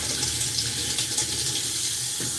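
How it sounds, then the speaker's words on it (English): Tap water runs steadily into a sink while a pan is rinsed, a close, continuous hissing splash that stays level throughout with no speech. "better rinse this out anyway"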